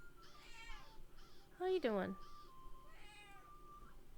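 A pet cat meows pitifully several times, one long drawn-out loud meow standing out among shorter, quieter ones, while a person speaks nearby.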